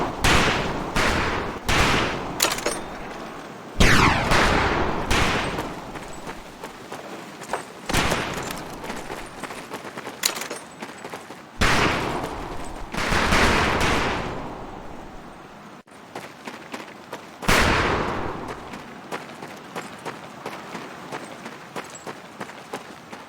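Rifle shots and heavier gunfire on a firing range in the World War II video game Medal of Honor: Pacific Assault, with loud sharp blasts and short bursts at irregular intervals, separated by gaps of ambient noise.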